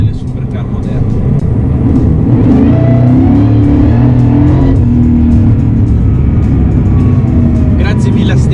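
A Mercedes SLR McLaren supercar engine roars loudly and continuously with a deep, throaty rumble that swells as the car accelerates, while someone talks over it.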